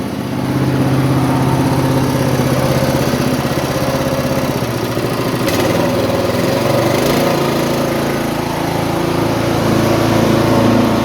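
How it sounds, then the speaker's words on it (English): Small engine of a homemade gold trommel wash plant running steadily at close range, a loud continuous droning hum with rattling vibration from the rotating drum, unbroken for the whole stretch. "Just the vibration of the trommel running itself."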